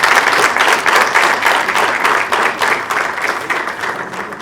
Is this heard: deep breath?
no